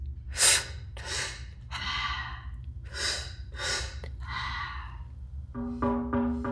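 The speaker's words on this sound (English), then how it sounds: "Then exhale through your mouth, like this" A person breathes slowly and audibly at close range: a sharp inhale, then long airy exhales in a calm rhythm, with a few shorter breaths near the end.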